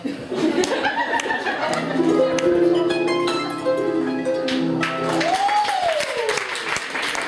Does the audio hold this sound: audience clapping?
yes